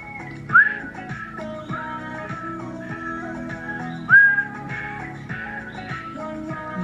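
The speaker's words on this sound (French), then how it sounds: "J'aime beaucoup ce sifflement." Melodic whistling in a pop music video, recurring phrases with bright rising notes over a steady musical backing, clear and prominent throughout.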